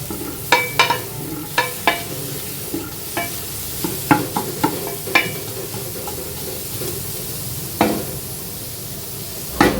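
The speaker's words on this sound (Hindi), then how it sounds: "प्याज को 2 से 3 मिनट तक के लिए सॉफ्ट होने देंगे" Onions softening in ghee in a pot over a full high flame while beef paya is being made, with a steady low sizzle broken by repeated sharp scraping stir strokes close by, and no one talking.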